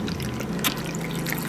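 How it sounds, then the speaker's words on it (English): Tap water being poured into a container, a soft continuous trickle and splash at close range with a brief louder gush midway, no talking. "we're gonna pour in some water."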